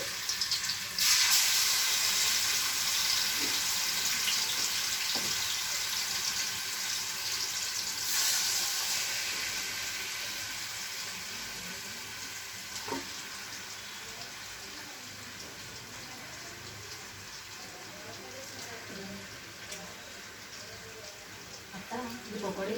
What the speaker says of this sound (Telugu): సో దీంట్లో మనం ఈ చికెన్ని ఆయిల్ వేడైన తర్వాత ఓన్లీ మ్యారినేట్ చేసి పెట్టుకున్న చికెన్ని వేసుకోవాలండి.